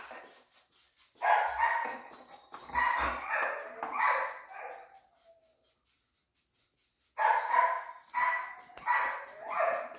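A dog barks and yelps in a few bursts of repeated, fairly close calls, separated by a quiet pause, with no speech over them.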